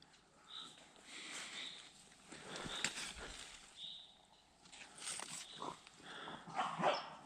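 Dogs bark off in the distance in a forest outdoors, scattered yaps and howls rising and falling over several seconds, with no one speaking.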